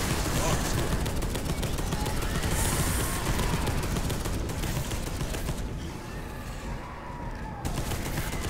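Turret fire in Space Hulk: Deathwing, a Warhammer 40K shooter, a dense, continuous roar of rapid shots filling the space, steady and loud throughout with only slight dips.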